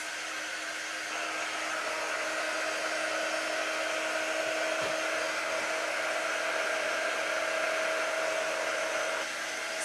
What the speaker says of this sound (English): I am going to take my quick dry tool and go ahead and dry the back of this.